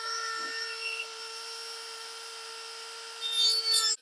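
A mounting tab on the grille of a 2023 GMC Sierra 2500HD AT4 being cut off with a power tool, giving a steady high whine with sharp tonal harmonics that turns to a harsher, louder grinding near the end.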